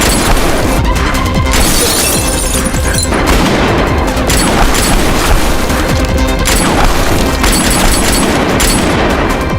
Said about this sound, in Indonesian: aksi tembak-tembakan pun kembali terjadi